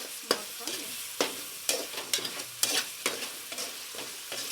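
Masala sizzling and frying in a pan for homemade Gobi Manchurian, with a spoon scraping and stirring in sharp, irregular strokes over a steady bed of hiss.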